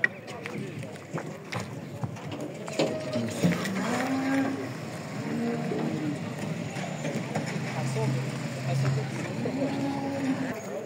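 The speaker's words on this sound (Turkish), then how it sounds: "6 aylık gebe simental kırması bir inek." A pregnant Simmental crossbreed cow lows at a busy livestock market, one or two drawn-out moos rising over a constant crowd din, with people talking and hooves or other animals moving nearby.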